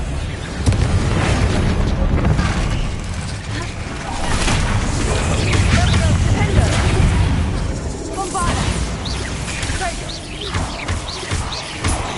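Repeated booming blasts from the Confringo fire spell in Hogwarts Legacy, heavy rumbling explosions and crashes layered over a dense, noisy battle soundscape, loud and sustained, with a voice calling out over them.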